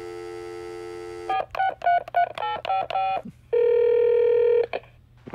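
A telephone dials a call: a long steady dial tone, then a quick run of distinct DTMF keypad beeps, followed by another sustained tone, all clear and close with a low hum beneath.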